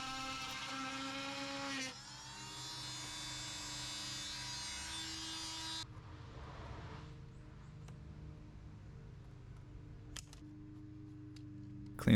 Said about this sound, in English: I clamp it in place just to get some nice crispy lines, and then I cut it with a multi-tool